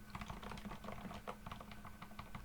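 Quick, steady typing on an iQUNIX ZX75 mechanical keyboard in wired mode, heard as close, even, muted clacks with no talking over them.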